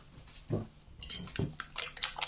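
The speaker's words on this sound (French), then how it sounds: "Et on mélange tout ça." Utensils clink and scrape against a bowl while quiche ingredients, including cheese and a pinch of paprika, are stirred together; a few close, sharp taps stand out over soft mixing noise.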